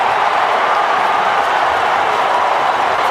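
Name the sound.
stadium crowd cheering at the Cotton Bowl, OU vs Texas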